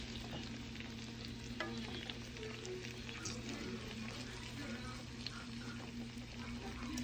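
Salmon frying in a pan, producing a low, steady sizzle with soft crackles over a humming background, heard from a fair distance without any speech.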